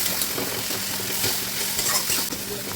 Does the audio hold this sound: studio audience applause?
no